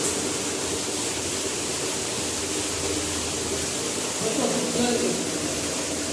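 Water gushing from a well pipe makes a steady, broad roaring rush that fills the whole clip, with a voice talking faintly beneath it.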